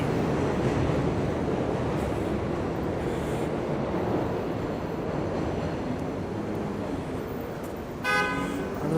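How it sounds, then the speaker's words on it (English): An elevated train passes along 21st Street and 30th Avenue in Astoria, Queens, New York City: a loud, steady rumble and rush of wheels fills the whole stretch, with a short horn toot near the end. "Let's go on the train."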